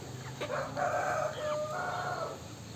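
A rooster crows once in a drawn-out call among free-range hens and young roosters of giant and caipira breeds, with soft clucking nearby, heard close at a farmyard at dusk.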